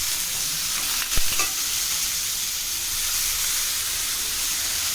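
Stuffed masala chillies frying in a pan, a steady close hiss and sizzle with a brief clatter as they are turned over.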